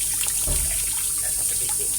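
Water runs steadily from a tap during ablution washing of the hands and forearms up to the elbows, a continuous hissing stream with a brief splash as the water hits the arm. No one speaks.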